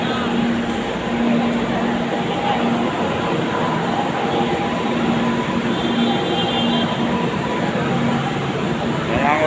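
An MRT metro train runs through Ortigas station with a steady loud rumble and rail noise that fill the whole stretch. Faint tonal whines rise and fade through it.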